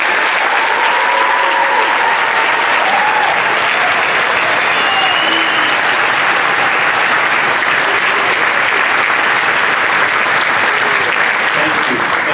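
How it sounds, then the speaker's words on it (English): A school orchestra concert audience breaks into thunderous, sustained applause, a loud dense wall of clapping that holds steady for the whole stretch with a few faint voices mixed in. "we want a thunderous round of applause to celebrate that"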